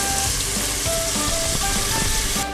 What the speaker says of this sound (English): I'm going to add my tomatoes to start with the stew.